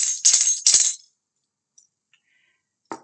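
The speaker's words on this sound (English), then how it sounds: "And we have a tambourine," A tambourine in a kindergarten literacy lesson gives two quick, bright jingling shakes, then a few faint ticks and one last short jingle after a pause. The sound is close and clear, with no talk.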